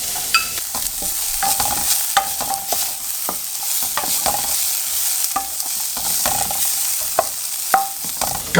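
Celery frying in a pan as the base for a venison bolognese, a steady broadband sizzle with repeated scraping clicks of a utensil stirring throughout, close and fairly loud with no voices.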